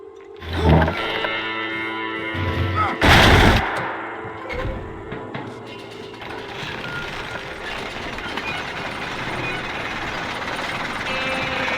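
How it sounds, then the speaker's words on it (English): Lift gears engage in the Red Dead Redemption video game with heavy mechanical clunks and ratcheting. A loud metallic burst follows, then a steady grinding mechanism hum runs on without any talk. "Load up and I'll engage the gears."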